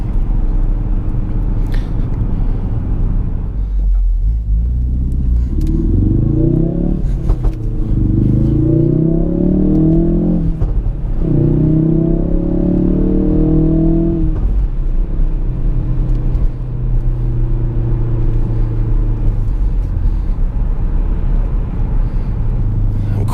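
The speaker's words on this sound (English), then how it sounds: "Oh, that cracking in the exhaust note, that never gets old." A 2017 Ford Focus RS engine pulls loudly and steadily from inside the car, its rising revs in several surges giving way to a crackling exhaust note, with a constant deep drone throughout.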